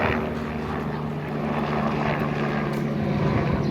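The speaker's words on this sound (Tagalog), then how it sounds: "May airplane." An aircraft passes overhead with a steady propeller or engine drone and a low, sustained hum. It is moderately loud and constant throughout, with no speech over it.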